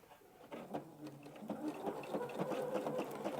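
A sewing machine stitches around an egg appliqué on an Easter table runner fabric, a steady close mechanical whirring and patter that builds slightly, no voices.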